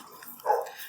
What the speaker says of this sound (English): So the dogs just spend their day barking.